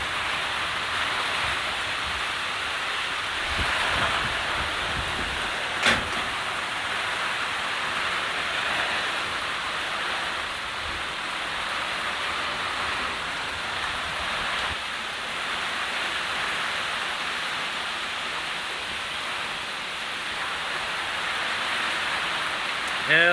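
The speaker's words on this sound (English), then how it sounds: "Rain therapy for the masses." Steady rain falls outdoors in a continuous dense hiss at an even, fairly loud level, with one brief knock partway through and no talk.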